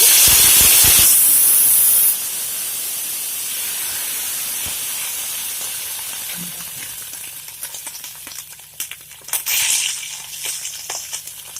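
Water hits a hot pan of fried ingredients for besan dhokla and erupts into a loud, dense hiss of steam that gradually fades to a softer simmer, with a few scraping stirs toward the end.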